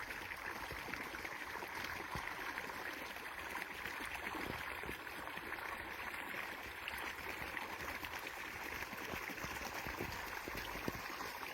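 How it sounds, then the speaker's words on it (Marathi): Irrigation water rushes through a wheat field like a small waterfall, a constant, fairly faint flowing wash with no talking. "जणू काय धबधबाचा असं वाटतंय"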